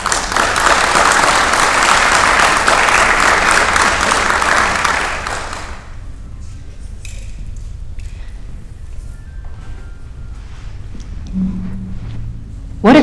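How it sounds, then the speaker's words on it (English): Audience applause for a panel at a college anniversary history showcase, a full burst of clapping for about six seconds that cuts off, leaving quiet room noise with a few faint taps and shuffles. "Let's give another round of applause."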